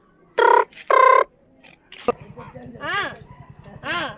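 Two short bursts of an electronic telephone ring, then people talking over a steady low background hum.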